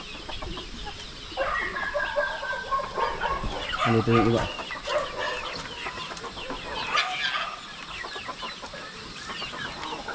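Farmyard chickens cluck and squawk around a coop, with a rooster nearby, in a busy outdoor mix of scattered calls while someone talks briefly.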